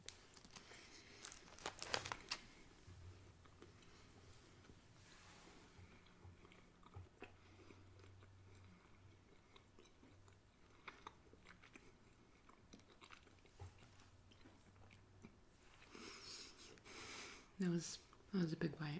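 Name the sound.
biting and chewing a Munch Pak snack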